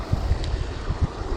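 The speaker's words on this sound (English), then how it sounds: "Oh, there comes that wind." Wind gusts over rough open water during a thunderstorm, a steady broadband roar with low buffeting thumps against the microphone, close and fairly loud, no voices.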